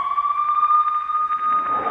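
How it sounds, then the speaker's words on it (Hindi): An air raid siren sounds in Belgorod during a bombing, a loud, steady wailing tone that holds without pause, with a faint rise of background noise toward the end. "सायरन भी बजा था उस वक्त वहां पर जब ये बॉम्ब गिरा"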